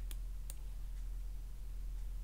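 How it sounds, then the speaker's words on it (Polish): Two sharp computer mouse clicks close together near the start, made while ordering an online course, followed by quiet room hum. "klikamy dalej"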